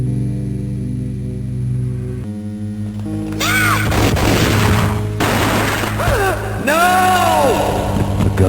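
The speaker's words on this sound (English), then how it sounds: "A gunshot boomed and she fell down in slow motion." Gunshots booming in the Game Boy Advance version of Max Payne: several loud, sharp bursts crack over a steady game music bed, with a few quieter thuds around them.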